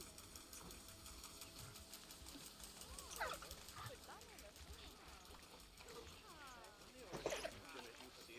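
Several dogs in the zoo-building video game Planet Zoo bark, yip and whimper in scattered bursts over a constant background bed of game ambience, with a couple of louder clusters of barking.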